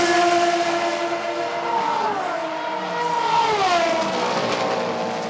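Two Aston Martin Valkyrie race cars pass at Imola during an endurance race, their high-revving engines whining loud and close with a steady, rising and falling pitch as they sweep by.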